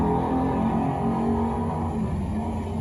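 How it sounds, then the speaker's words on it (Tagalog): A Mazda 323 engine with a faulty ignition control module runs loudly and steadily, a harsh droning hum that holds constant throughout with no one speaking. "Medyo maingay yung motor"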